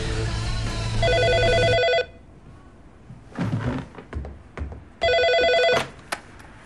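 A telephone bell rings in two loud, rapid-trilled bursts separated by a quieter stretch with scattered thumps and knocks.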